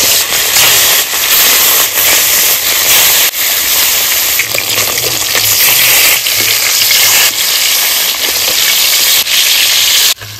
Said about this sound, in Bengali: সরষের তেল দিয়ে দেবো। মাছগুলো আমি ভেজে নেব।